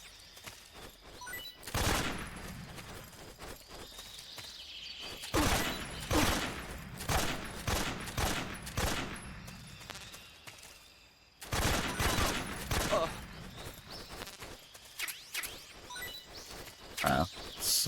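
Hip-fired gunfire in Metal Gear Solid 3, with repeated bursts of rapid shots in clusters separated by brief pauses, loud and close against a low background.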